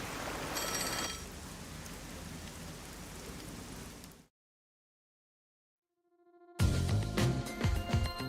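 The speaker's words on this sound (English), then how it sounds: "Oh, the phone. It's a call from the WDO." A phone ringing in a detective video game: a steady electronic ringtone tone over rain-like ambient hiss, then a complete silence, after which a rising chime leads into louder musical game sound.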